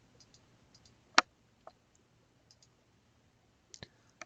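Computer mouse clicks at a desk while working through query tuning software, a few sharp isolated clicks among faint ticks in quiet surroundings with no talk.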